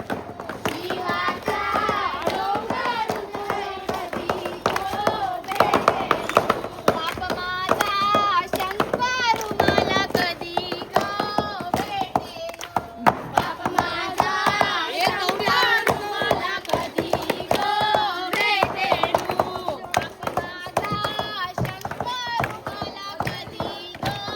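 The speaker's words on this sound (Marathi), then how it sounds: "ताठोल्या अशा टाळ्या वाजून पोऱ्या खेळतात त्याला ताठोल्या बोलतात आमच्या गावात" Children play a rhythmic hand-clapping game in a village, with rapid, close claps mixed with their chanting and chattering voices throughout.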